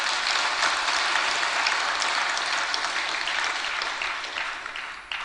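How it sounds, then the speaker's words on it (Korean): A church congregation gives loud, sustained applause in a hall, a dense wash of clapping that stays strong and even, tapering a little toward the close, with no voices on top. "크게 박수 한번 쳐줘요."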